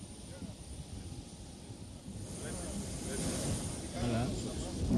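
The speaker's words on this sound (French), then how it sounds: "il quitte l'avion, il descend vers son frère, le général d'armée Assimi Goïta." A parked airplane's engines hum and whine steadily at an official arrival ceremony for General Tiani in Niger, with a low drone that swells slightly, as a voice talks over it amid outdoor wind noise.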